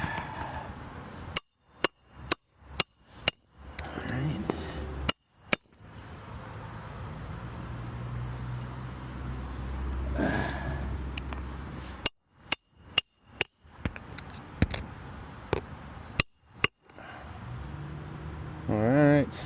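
A hammer drives a nail flush into roof shingles outdoors, striking in sharp bursts of several quick blows separated by pauses, with insects or crickets droning steadily in the background.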